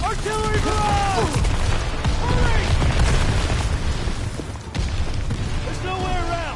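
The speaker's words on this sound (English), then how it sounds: "Artillery barrage!" Artillery barrage in Call of Duty WW2's Battle of the Bulge campaign: repeated deep booms and rumbling explosions roll over each other, with soldiers shouting over the din.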